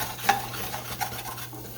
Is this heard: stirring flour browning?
yes